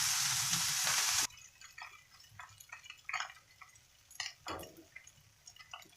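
Fish chow mein stir-frying in a pan: an initial loud hiss of food hitting hot oil drops to a steady crackling sizzle, with scattered stirring scrapes and pops and no talking.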